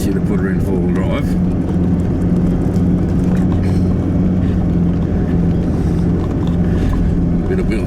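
A 4x4 vehicle pushes through flood water with its wheels slipping, a loud steady engine drone and churning water rumble running without break throughout, with a voice talking over it.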